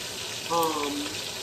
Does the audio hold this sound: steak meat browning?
yes